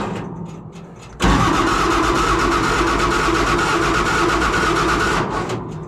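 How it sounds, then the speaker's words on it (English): Diesel engine of a 1974 Mack truck cranks over loudly and steadily for about four seconds after a quieter lead-in, then cuts off, with no talking. "It might be out of fuel, but it does crank over."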